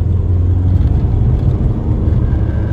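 VW Bus engine running hard on a dynamometer during a power measurement, a loud, steady low rumble and whir sustained throughout without talk.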